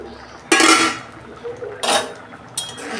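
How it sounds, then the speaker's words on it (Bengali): A metal pot lid lifted off a simmering pan of ghugni with Chandramukhi potatoes, giving three short clattering clanks spaced about a second apart, close and fairly loud. "আমি ঢাকনা খুলছি।"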